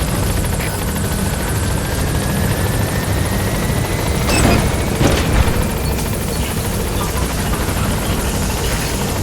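The Pequod helicopter approaches a landing zone in Metal Gear Solid V: The Phantom Pain, a loud continuous rotor roar and engine drone filling the whole stretch with a slight swell in the middle.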